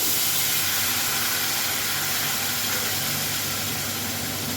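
Fish curry poured into a hot wok, giving a loud, continuous broadband hiss of steam and bubbling that holds steady throughout with no voices.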